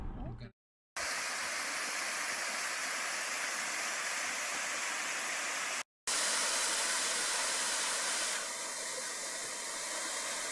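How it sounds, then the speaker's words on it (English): A small waterfall in winter on Michigan's Keweenaw Peninsula gives off a steady, dense rush of falling water. The roar is loud and even, broken by two brief dropouts. "a little waterfall here."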